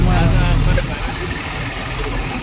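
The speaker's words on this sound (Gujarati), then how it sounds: "કેવલભાઈ ટ્રેક્ટર રકાવે છે દેખાડું તમને છે" A tractor on a farm runs close by, its engine a loud, steady low rumble that drops slightly in level after the first second while someone speaks over it.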